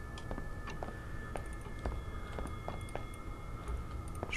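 Steady clock ticking inside a Korean horror game set in a school, a regular series of sharp, fairly close ticks over a low ambient hum, with no talking.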